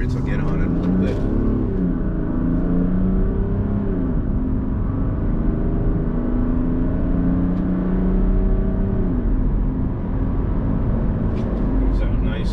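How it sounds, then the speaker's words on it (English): A 1998 Mercedes-Benz E300 Turbodiesel car accelerates on the road, its engine drone rising and shifting steadily with loud continuous road rumble throughout. "This car accelerates. I'll get on it a little bit."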